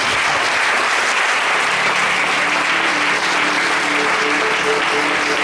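A church congregation at a French-language Sunday service breaks into sustained applause, a dense, steady wash of many clapping hands filling the room, with faint voices mixed in.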